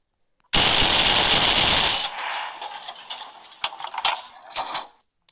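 A loud, sustained burst of rapid mounted machine-gun fire in a Roblox tank simulator game, followed by a few scattered, sharper shots with quieter gaps between them.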